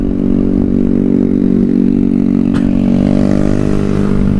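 A motorcycle engine drones steadily at close range throughout a road trip to Bandung, Indonesia, with a brief clatter partway and a slight shift in pitch toward the end.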